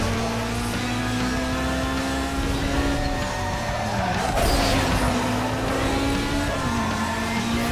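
A racing car engine in Need for Speed Underground 2 holds a steady, loud drone, its pitch rising and dipping as the car shifts and accelerates, with faint tire noise underneath and no talk.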